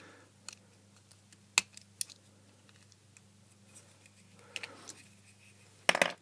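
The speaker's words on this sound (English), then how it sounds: "I'll just lop that little rivet completely off." Snips cut plastic rivets off the circuit board of an LED beanie hat, giving a few sharp, close clicks and snaps spread over quiet gaps, with a cluster of louder cracks near the end.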